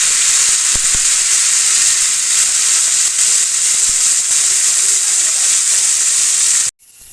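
Chicken varutharacha curry meets curry leaves frying in hot oil in a pan, giving a loud, continuous bright sizzle that runs for several seconds before cutting off abruptly.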